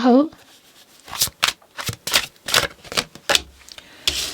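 Tarot cards shuffled in a series of about ten quick, crisp riffling bursts, close and fairly loud, with brief pauses between them and a short vocal sound at the very start.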